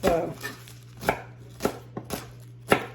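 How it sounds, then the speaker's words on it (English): Knife chopping broccoli rabe into very small pieces on a board, about five separate crisp chops spaced roughly half a second apart, close and fairly quiet. "So I'm going to chop it in a very, very small size pieces."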